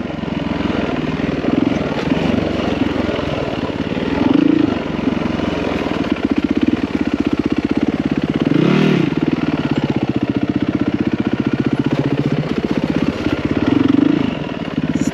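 A motorcycle engine drones loud and steady while riding off-road at McCain Valley, with the throttle swelling and easing in places, close and continuous throughout.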